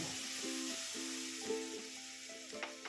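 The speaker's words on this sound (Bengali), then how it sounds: "এইবার একটু দিয়ে দেবো সামান্য জল।" Water is poured into frying masala for aloo matar paneer, giving a steady close sizzle with a bright hiss, while a faint humming tone drifts through the background.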